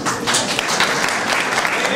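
An audience at a community book speech applauds steadily and loudly, the dense clapping continuing without a break.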